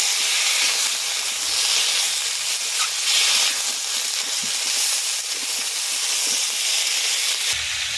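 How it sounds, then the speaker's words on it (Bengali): Ginger and green chili paste frying in a pan for a rohu fish curry with drumsticks and potato, giving a steady, loud broadband hiss and sizzle that stays even throughout, with no talking. "আদা আর কাঁচা লঙ্কা বাটা আর একটু ভেজে নেব"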